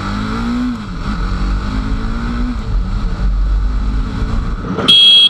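A TVS Apache RR310 motorcycle with a reverse-inclined engine pulls away from a green light, its engine note rising and falling through the gears up close, ending in a brief sharp high-pitched burst.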